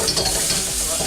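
Oil or butter sizzles in a wok before cauliflower rice goes in, a brief dense crackling hiss, close and loud.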